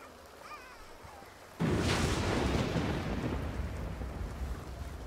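A sudden loud crack of thunder in The Sims 2 breaks over quiet game ambience, then rolls into a long, heavy rumble mixed with rain-like hiss that slowly fades.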